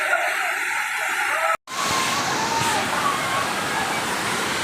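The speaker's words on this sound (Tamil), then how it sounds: "இந்த பாறையோட கீழே இருந்து தண்ணி வர்றது தெரியுதுங்களா?" At Panchalinga waterfall, water gushes out from under a rock in a loud, steady roar of rushing spray. It is heard close up, broken only by a very brief dropout partway through.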